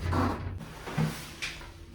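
A balcony sliding door on a Celebrity Apex cruise cabin rolls shut from inside, a low rumbling slide ending in a soft thud, followed by a brief lighter knock.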